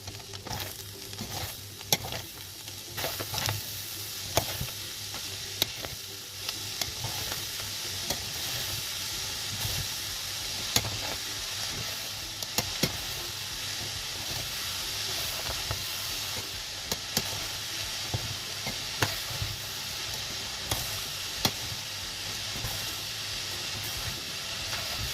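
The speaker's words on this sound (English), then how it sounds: "Now add in 14 medium onions finely diced. Give this a good mix." Fourteen medium onions, finely diced, fry in a large batch while being stirred, giving a long steady hissing sizzle broken by repeated scraping stirs and clanks, close and without talk.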